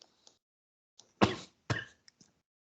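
A person coughs twice in quick succession, a close, sharp pair of bursts, with a few small clicks and breaths around them in an otherwise quiet room.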